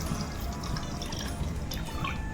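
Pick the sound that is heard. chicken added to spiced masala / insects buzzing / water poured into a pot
water poured into a pot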